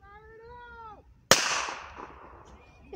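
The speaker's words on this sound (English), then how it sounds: "You shot at something back there." A single sharp gunshot cracks at an outdoor shooting range and decays into a brief echo, preceded by a whining, meow-like voice and followed by faint background noise.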